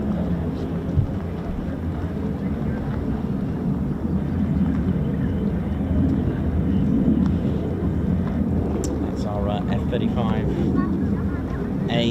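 US Air Force F-35A fighter jets of the 48th Fighter Wing depart RAF Lakenheath, a steady distant jet roar holding under ongoing talk.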